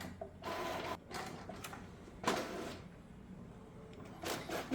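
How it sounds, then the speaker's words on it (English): An Epson ET-8550 printer running a quick black-and-white print job, giving several bursts of mechanical whirring and clacking with short pauses between, heard fairly close with no talking. "Now I just chose to print something in black and white really quickly."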